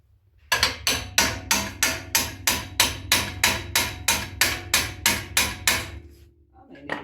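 Hammer blows on a 1971 Chevrolet El Camino being lowered, about fifteen loud metallic strikes in a steady, evenly spaced rhythm, close by, followed by a brief rattle as the pounding stops.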